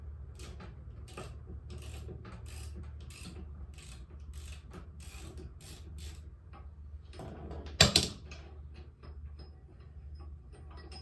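A ratchet wrench works on a lawn mower blade bolt, giving a series of quiet clicking strokes and mechanical ratcheting at close range, with a sharp metallic clank partway through.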